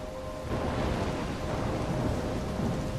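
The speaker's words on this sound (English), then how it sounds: "I'm trapped in a storm?" Steady heavy rain pours over a low continuous rumble of thunder in a stormy outdoor scene from the video game Life Is Strange, loud and unbroken with no voices.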